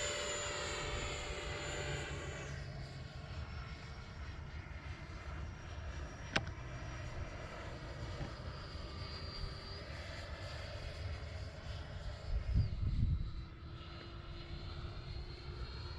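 An X-Fly Alpha RC model airplane's engine drones steadily through takeoff and flight, its pitch shifting as the throttle changes, with a brief rumbling bump near the end.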